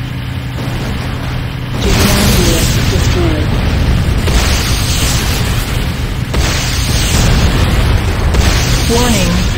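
Explosions from the GDI Tiberium refinery being destroyed in the video game Renegade, loud booming blasts that roll on in repeated heavy bursts at close range, with a voice over them.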